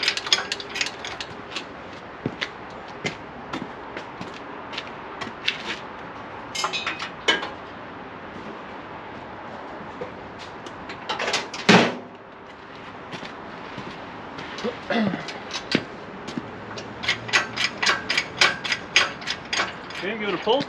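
A garage winch clicks and ratchets in rapid, uneven bursts while hoisting the engine out of a 1957 Chevy, with a sharp metallic clank midway and faint voices in the background.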